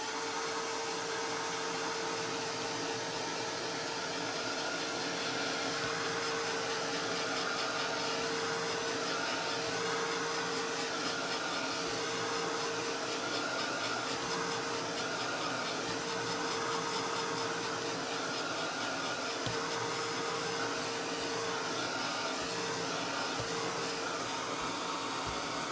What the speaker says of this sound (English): Just dry the gesso off.